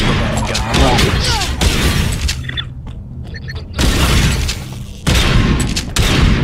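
Heavy automatic gunfire from a gun in the video game Bunker Punks, loud bursts with booming blasts that pause briefly mid-clip and then resume, under a speaking voice.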